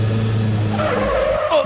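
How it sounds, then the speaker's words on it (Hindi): A car skids to a stop with a loud, close tire squeal that slides downward and cuts off abruptly. "गाड़ी क्यों रोकी?"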